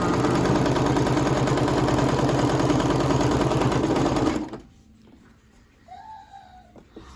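A sewing machine stitching fabric face masks runs loud and steady with a rapid mechanical hum, then stops abruptly, leaving quiet room sound with faint chirps.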